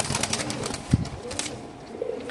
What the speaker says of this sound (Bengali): খাঁচা নাম্বার 11, একজোড়া রেড চেকার কবুতর